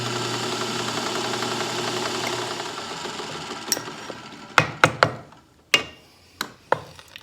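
A drill running a 13/64 bit through holes in a workpiece whirs steadily and then winds down. A few sharp, close clanks and knocks of metal parts follow in the quieter shop.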